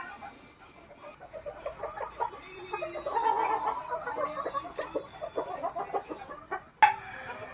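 A Hatch grey gold gamefowl hen clucks in a run of short, repeated calls that rise toward the middle. A sharper, louder call sounds near the end.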